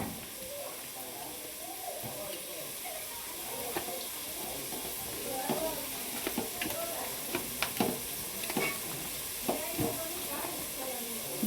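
Chopped vegetables sizzle in a hot pan while being stirred and mixed, a soft steady hiss punctuated by repeated scraping and clanking of the spoon, with someone talking quietly at times.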